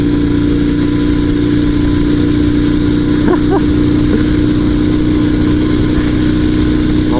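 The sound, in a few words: Dnepr sidecar motorcycle engine at full throttle, third gear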